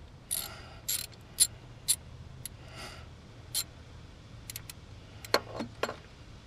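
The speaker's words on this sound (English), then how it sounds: "crank one down and then the other." A ratchet wrench cranks down bolts on a 2001 Subaru Forester during a clutch slave cylinder change, giving several short bursts of clicking spaced across a quiet garage background.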